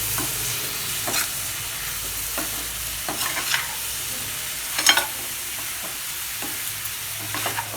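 Chillies fry in oil for a Tamil gooseberry (amla) pickle, with quiet low sizzling under a steady pan hiss, broken by several scraping stirs and a louder clatter near the middle, with no talking.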